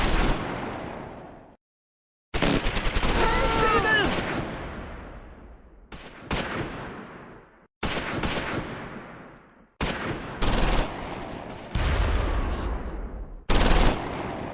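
Gunfire from a squad engaging German infantry in the open in Close Combat 4, a World War II Battle of the Bulge game set at Wiltz, with loud sustained bursts of rifle and machine-gun fire broken by short gaps.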